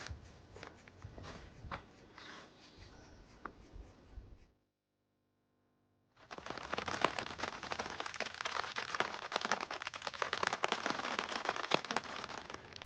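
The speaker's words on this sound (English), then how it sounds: "as soon as we parked, the rain started coming down" Rain falling steadily around a Jeep campsite among trees at Monache Meadow, a soft patter and crackle of drops that cuts out for a moment midway, then returns heavier and denser, faint and close.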